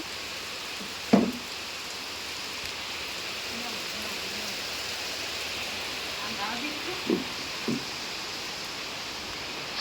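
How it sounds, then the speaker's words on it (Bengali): Rain falls steadily at night, a soft, even wash with a few louder knocks and patters. Speech can be heard faintly at moments. "বৃষ্টি হচ্ছে।"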